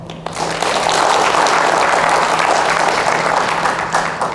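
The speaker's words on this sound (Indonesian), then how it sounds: "tepuk tangan buat semua" Sustained applause from a large audience at a corporate anti-corruption briefing, many hands clapping densely and steadily for a few seconds, loud and fairly close with no talk over it.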